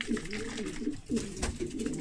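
Soft, throaty cooing from racing pigeons, a few repeated rolling calls close by with faint background noise.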